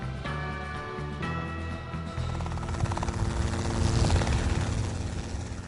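Helicopter rotor and turbine whine during an autorotation descent with the collective lowered, gliding at 60 to 70 knots; a steady, close, loud drone with harmonic tones that grows denser and rougher toward the end, with no talk.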